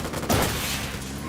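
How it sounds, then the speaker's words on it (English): Gunfire in the Ghost Recon Wildlands video game on Xbox One, a short loud burst of rapid shots with a dense, reverberant tail. "Opening fire on these fuckers."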